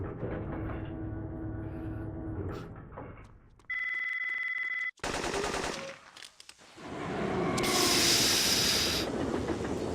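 An old-style telephone bell rings in the Syphon Filter video game, a steady electronic ring lasting about a second amid loud game noise of gunfire and rumbling machinery, with no talk.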